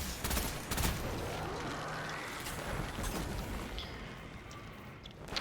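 Gunfire in the Destiny 2 Veles Labyrinth master Lost Sector, with dense overlapping shots and impacts over a steady wash of game ambience and wind-like noise throughout.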